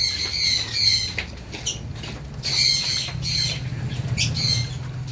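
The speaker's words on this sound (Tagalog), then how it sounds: "Dami na palang ibon ni sir dito." Shrill lovebird squawks come in bursts, several birds chattering and calling close by with brief pauses between outbursts.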